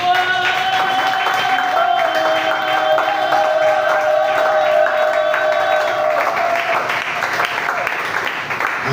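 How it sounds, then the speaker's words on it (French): A church congregation applauds during a French-language service, steady clapping under sustained organ or keyboard tones, with voices faintly present in the mix. "applaudissons pour la parole de Dieu"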